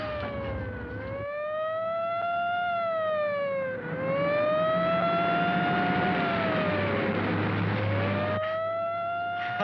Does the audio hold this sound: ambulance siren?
yes